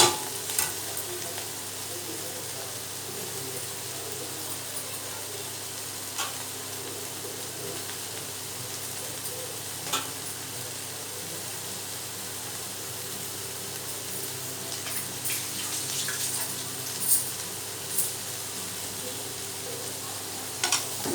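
Meal maker soy chunks roast in a pan with a steady, close sizzle and frying hiss, broken by occasional scrapes and clinks of stirring throughout.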